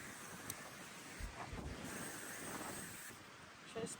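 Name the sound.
strong wind on the trail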